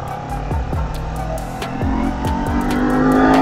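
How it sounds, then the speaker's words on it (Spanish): A Kawasaki Ninja 400 KRT motorcycle engine revs hard through repeated upshifts, each gear bringing a rising whine that drops and climbs again, loud and close with wind noise and no talking. "Y estira este motor. Es una belleza andar sobre esta Ninja 400"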